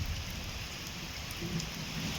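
Steady, dense hiss of the first May rain in Dapoli, Konkan, falling on a surface, close and unbroken, with no voices.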